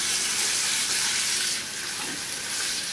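Hot water running from a bathroom tap for shaving, a steady bright hiss of flowing water that dips slightly midway, close and continuous with no talking.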